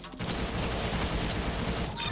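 Gunfire in the Roblox shooter Arsenal, a dense, continuous stream of rapid shots close and loud for nearly two seconds after a brief quiet start.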